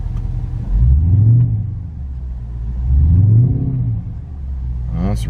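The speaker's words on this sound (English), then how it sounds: "Well, it's revving smoothly." A Porsche Panamera with its check engine light on is revved twice while parked, each deep engine rise swelling and falling back to a smooth idle, close and fairly loud.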